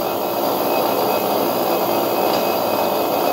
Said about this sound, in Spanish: Lo oye vibrando un poco porque lo tengo en esta posición.